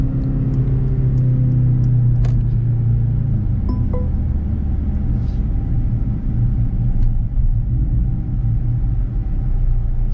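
A Mercedes-AMG C63 S with a four-cylinder engine accelerating hard, a loud deep engine drone and rumble from inside the car that holds steady throughout, with no talk.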